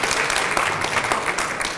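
A community crowd at an Oak Park Black History Month celebration claps steadily, a brief burst of moderately loud applause that holds an even texture from start to finish.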